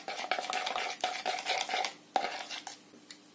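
A spoon stirs a homemade carp and crucian carp fishing attractant in a small container, made with citric acid and meant to be flavoured with garlic, giving quick close scraping and clinking strokes in a short burst.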